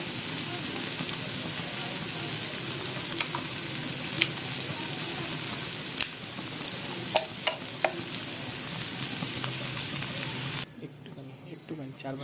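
Sliced onion and red chili sauce fry in a pan for restaurant-style dragon chicken, a continuous close sizzle with scattered spoon clicks and stirring, and the frying drops away sharply near the end.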